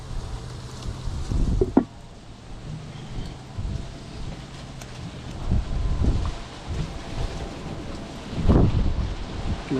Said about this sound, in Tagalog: grabing lakas ang hangin